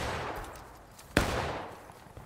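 A single sharp musket shot rings out in a Civil War battle in the game War of Rights, crisp and fairly close over a steady wash of distant battlefield noise, with a short decaying tail.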